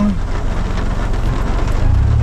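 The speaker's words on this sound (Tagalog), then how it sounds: "Palakas yung ulan talaga." Steady, dense rain roars down heavily and continuously beside a river, a broad hiss with a low rumble beneath it, with no voices.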